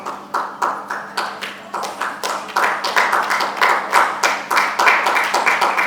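Scattered, sparse hand clapping from a small audience at a Mother's Day felicitation ceremony, individual claps distinct and close, building slightly denser toward the end.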